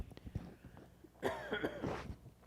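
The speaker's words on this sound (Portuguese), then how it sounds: "Perdão pela tosse." A person coughs a few times close by, harsh throaty bursts with a short raspy throat-clearing in between, then quiet.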